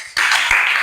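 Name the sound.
applause for group two in a classroom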